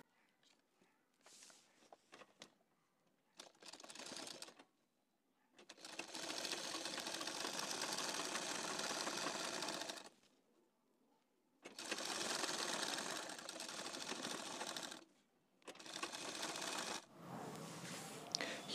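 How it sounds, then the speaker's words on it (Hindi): A sewing machine stitching kurti back neck pieces, running in several distinct close bursts of rapid mechanical whirring separated by pauses with faint handling sounds. "यहाँ पर हमें अब सिलाई लगा देनी है"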